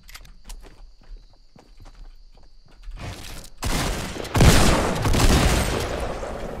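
Grenade launcher fire in a video game: soft footstep clicks at first, then a sudden loud blast with a sharp burst near the middle, followed by sustained roaring explosion noise.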